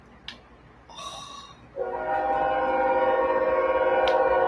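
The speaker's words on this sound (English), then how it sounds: "Excuse the train." A passing train sounds a long, steady horn blast that swells and holds, over the low rumble of rail cars rolling by nearby.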